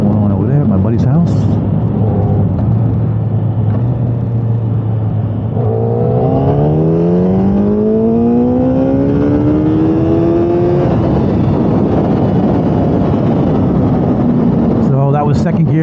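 A 2008 Yamaha FZ1 motorcycle accelerates hard, its engine note climbing steadily through the gears from a low idle to a high whine, loud and continuous with wind noise.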